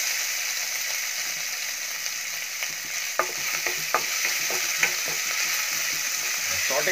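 Crushed ginger and garlic sizzle in hot oil in a pan, with a steady frying hiss and scattered clicks of a spoon stirring against the pan. No one speaks.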